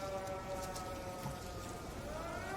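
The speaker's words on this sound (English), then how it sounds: "I love the sound of air raid sirens." An air raid siren in the video game Everybody's Gone To The Rapture holds a steady, moderately quiet wailing tone that rises slightly near the end, over a soft rain-like hiss.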